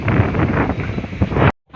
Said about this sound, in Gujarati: ફૂલ પવન છે જો અત્યારે